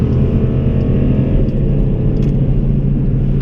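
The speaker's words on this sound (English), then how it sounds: "You can hear the motor." A car's engine runs loud and steady in race or sport mode, a deep continuous rumble close by with a slight revving swell and no talk over it.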